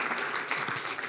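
Audience applause at an awards ceremony, a soft steady patter of clapping from a room of people, fairly faint and brief.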